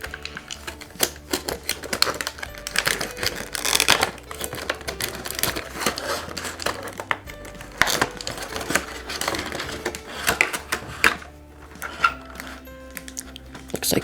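A clear plastic container around a model airplane being pried open and pulled away, with steady close crinkling, snapping clicks and crackles over about fourteen seconds.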